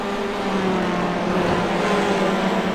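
A TCR touring car in the iRacing sim races at full throttle, its engine droning loud and steady with a gear change as it holds speed in fourth.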